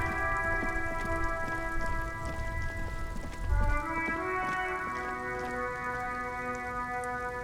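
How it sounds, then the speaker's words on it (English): Rain falls steadily in the video game Disco Elysium, a soft continuous patter heard beneath sustained ambient music tones, with one brief low thump midway and no talking. "it's pissing rain again."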